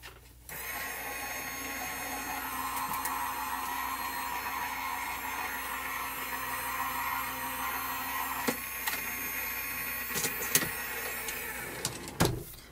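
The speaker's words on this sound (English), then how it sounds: "And I'm going to run this through my Gemini Junior." A Gemini Junior die cutting machine hums steadily as it pulls a foil sandwich through its plates, a continuous motorized drone ending with a few sharp clicks and knocks.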